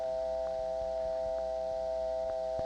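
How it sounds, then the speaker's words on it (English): Step-by-step PBX dial tone from a 1973 New York telephone line, a steady hum of mixed tones with busy-signal pulses blended in and faint rhythmic clicks throughout, no talk. "That is an actual step PBX dial tone."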